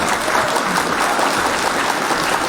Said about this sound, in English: Those claps are for you